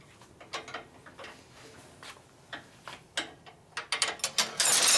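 A ratchet wrench tightens a bolt on a 1965 Harley-Davidson FLH 74ci panhead motor, producing bursts of quick metallic clicks in short strokes that grow louder and denser toward the end.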